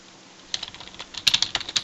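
Someone types a search into Google on a computer keyboard, producing a quick run of close, crisp key clicks that grows denser and louder toward the end.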